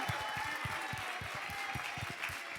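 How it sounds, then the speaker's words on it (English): An audience claps steadily in a loose rhythm, the claps even and sustained with no voices over them. "round of applause"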